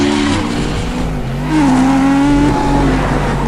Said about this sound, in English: The Atom's 3 litres of V8 is actually 2 motorbike engines stuck together.